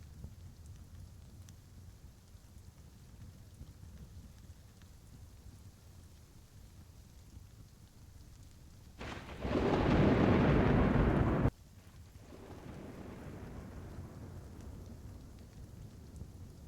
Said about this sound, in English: you hear this slight rolling of thunder